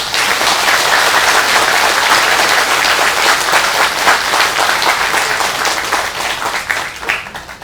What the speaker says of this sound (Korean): 우리 그분들한테 큰 박수 한번 부탁합니다